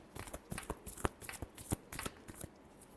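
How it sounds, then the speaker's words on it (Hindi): Tarot deck being shuffled by hand, a quiet rapid series of riffling card flutters and taps at close range. "Last shuffle."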